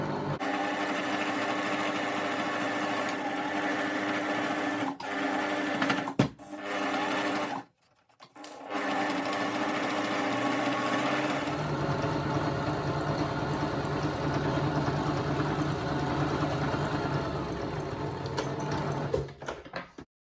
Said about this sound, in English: Now just carry on sewing those rows together until you get to the end